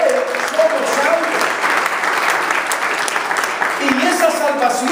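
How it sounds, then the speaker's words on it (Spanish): A congregation at a church service claps loudly and continuously, a dense wash of hands with some voices and cheers mixed in throughout. "démosle un fuerte aplauso al Señor, porque por Él somos salvos."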